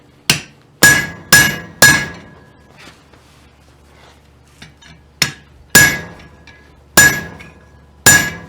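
A hammer strikes the hot rivet joint of blacksmith tongs, giving about eight sharp, ringing metallic blows in irregular bursts of two or three, each decaying quickly, with softer taps between.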